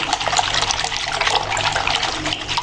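Cooking oil poured from a glass into a bowl while making a liquid pizza batter, a steady close liquid splashing and trickling that runs continuously with no talk.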